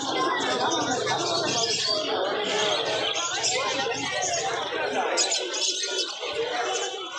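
Many birds, pigeons among them, call and coo together at a crowded bird market in Mirpur, a dense steady mass of chirps and coos under nearby chatter and voices.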